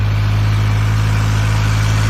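A tractor engine labors steadily uphill through an olive grove, a loud continuous low drone with no pauses.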